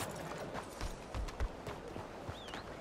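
A horse's hooves clip-clop at a walk in the Western video game Red Dead Redemption 2, a few soft, irregular thuds over an ambient outdoor background, with no clear speech.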